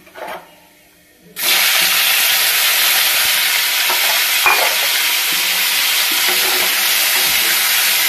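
Onions dropped into a hot pan of roasted cumin, a sudden loud burst of sizzling after a quiet start that then holds as a strong, even frying hiss with light stirring.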